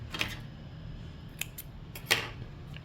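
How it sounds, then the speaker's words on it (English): Scissors snipping through crochet yarn, two or three quick crisp cuts spaced apart over a low steady background hum, close and fairly quiet. "and cut your yarn"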